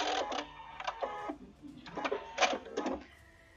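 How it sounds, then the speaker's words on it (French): A serger overlocking the pockets of a Petit Patron Charlotte dress, running in quick bursts of mechanical whirring and clatter with short pauses between passes. "J'enlève les épingles et je vais passer les poches au surjet."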